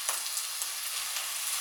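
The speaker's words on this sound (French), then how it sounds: "Je vais y mettre ma côte de veau. Faire saisir." A veal chop searing in a pan with butter gives a dense, steady, close hiss with faint crackles throughout.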